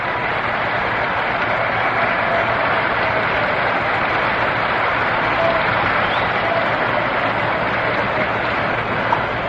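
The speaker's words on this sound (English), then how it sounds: "Round of applause for Johnny Podres as he comes on." A stadium crowd applauds in a continuous, even wash of clapping as pitcher Johnny Podres comes on at the 1955 World Series Game 7, heard from a distance with a muffled, old-recording quality.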